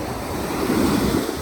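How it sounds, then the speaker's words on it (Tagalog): Strong wind-driven ocean waves surge onto the Kauai shore, a steady roar of surf with gusty wind buffeting the microphone, swelling louder midway through. "Lakas ng alon. Mahangin kasi,"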